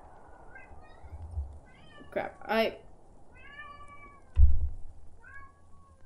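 A cat meows several times, short rising cries spread across a few seconds, fairly close. A person speaks briefly between the calls, and a low knock or thump lands near the end.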